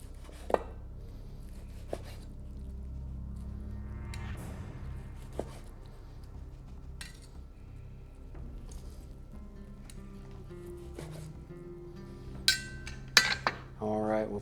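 Knife cutting grilled skirt steak into thin slices on a board, several crisp taps and thuds of the blade spaced apart, close and fairly quiet over a low background hum, with a few sharper clinks near the end.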